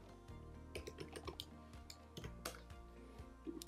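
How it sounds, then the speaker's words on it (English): Typing on a computer keyboard while entering an email address: irregular light clicks and taps in short bursts, close and fairly quiet. "type in the email address you created your account with"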